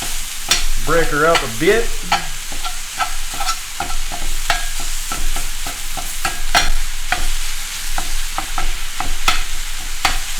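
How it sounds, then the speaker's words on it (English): Chunks of ground beef sizzle as they fry in a pan for empanadas, a close, steady crackle broken by repeated scrapes and knocks of a utensil stirring and breaking up the meat. A voice speaks briefly near the start. "you can hear it sizzling"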